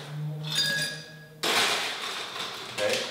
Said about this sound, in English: this is a Collins, what we call a Collins glass